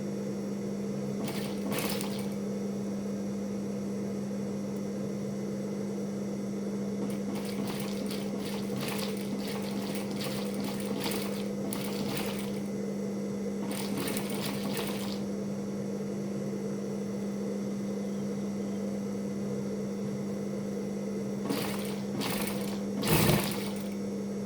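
Sewing machine stitching abaya fabric, a steady motor hum with bursts of rapid needle chatter starting and stopping several times, close and fairly quiet.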